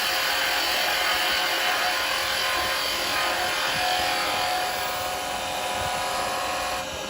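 A wooden Christmas tree being turned on a woodturning lathe with a carbide tool, a steady, loud hiss of the cut grinding on without pause or voices.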